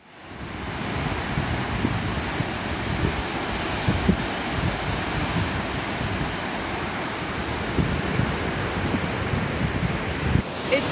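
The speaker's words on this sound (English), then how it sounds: "today it's so choppy and windy" Gusty wind buffets the microphone over a continuous rush of choppy surf on a shore, loud and unbroken, with no voices, on a cool day around 55 degrees.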